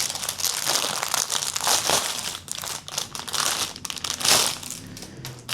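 Plastic wrapping around shower caps crinkles and crackles as it is unpacked by hand, in close, busy bursts of rustling that swell and fade.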